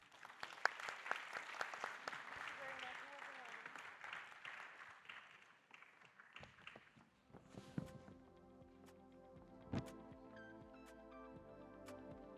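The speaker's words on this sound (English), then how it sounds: "please join me in giving the ministers a warm applause" Faint audience applause for ministers in a UNESCO Transforming Education conference room, a soft patter over the first half before it thins out and gives way to quieter tonal sound.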